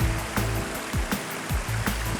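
Fast-flowing stream water rushes at a river ford on a hiking trail in the mountains, a steady close wash broken by periodic splashing surges, with no voices.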